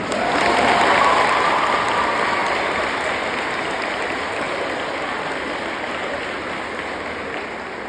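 A girls' high school audience in Pietermaritzburg applauds together, a dense, steady wash of clapping that starts loud and slowly thins and softens over several seconds, with no voices standing out.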